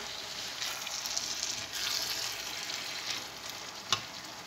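Seasoned minced meat sizzling and frying steadily in a pan, a continuous close hiss with a single brief clink near the end.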